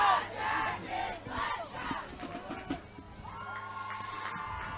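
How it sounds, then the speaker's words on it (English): Home football crowd at a high school senior night game cheers and yells loudly, a dense wall of voices with rising whoops that ease, then swell again into sustained cheering. "You can hear the Hayesville Yellow Jacket crowd getting into it a little bit."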